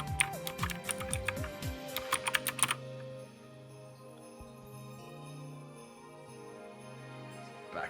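Quick bursts of clicky typing on a mechanical keyboard fitted with blue click switches, crisp close keystrokes for about three seconds, then stopping and leaving a low background hum.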